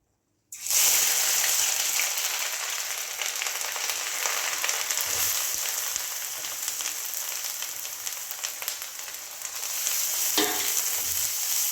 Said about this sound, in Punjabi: ਹੁਣ ਇਹਦੇ ਵਿੱਚ ਪਾਵਾਂਗੀ ਮੈਂ ਜੀ ਜਿਹੜੀ ਆਪਾਂ ਹਲਦੀ ਕੱਦੂਕਸ਼ ਕਰਕੇ ਰੱਖੀ ਸੀ